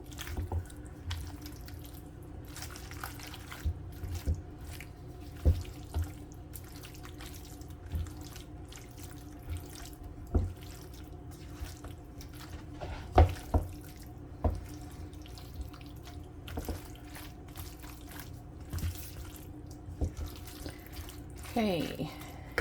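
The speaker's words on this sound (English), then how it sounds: "I will definitely rinse those cans and put them in the recycling." Water from a kitchen tap runs steadily while cans are rinsed, with scattered clinks and knocks of metal against the sink under the flow, close and fairly constant.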